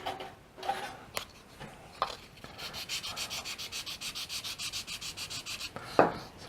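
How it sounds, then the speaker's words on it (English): Balsa wood for an upper wing part of a Balsa USA Phaeton 90 model plane is sanded by hand in a steady run of rapid, rhythmic rubbing strokes, close and soft, with a few taps before and after. "Sand it back a bit so it has a nice fit."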